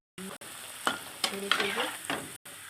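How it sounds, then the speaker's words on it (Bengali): Pea-filled kachoris drop into very hot oil and fry with a close, bubbling sizzle, broken by a few sharp spatters and short gaps of silence, no voices. "পুরটা আর কি মানে তেলটা গরম হয়ে গিয়েছে ওই যে আমি এগুলো ছাড়ছি এইভাবে দেখো লাল লাল হয়ে"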